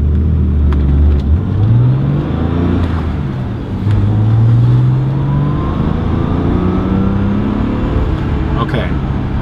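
A 1995 Porsche 911 993 C4 all-wheel-drive engine hums steadily while driving, its low drone rising and falling in pitch as it revs through gears, continuous and close inside the cabin.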